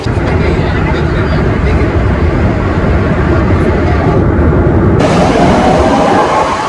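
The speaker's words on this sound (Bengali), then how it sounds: "মেট্রো 2 মিনিটের মধ্যে আসছে। যে আওয়াজ আমার মনে হয় না কিছু শুনতে পাবে কিনা আমি জানি না।" A Kolkata metro train roars loudly and up close in an underground station, a constant heavy rumble with a brighter, higher rush joining in partway through.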